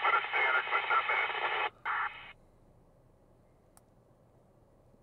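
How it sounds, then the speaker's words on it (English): Crackling radio static from a GMRS handheld transmission during a distance test, a loud hissing burst for about two seconds that breaks off briefly, resumes, then cuts out, leaving near silence. "Okay, your static's a little bit worse than it was"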